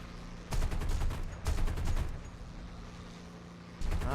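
Rhythmic bursts of heavy autocannon fire from a 37mm cannon on a P-39 in War Thunder, two rapid volleys of thumping shots over steady engine drone, then a fresh burst at the end.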